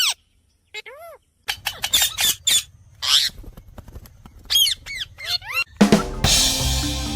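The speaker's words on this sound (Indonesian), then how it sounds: "Ini burung beo." A myna bird gives a string of sharp squawks and whistling calls in quick bursts, close by, ending in a loud harsh screech.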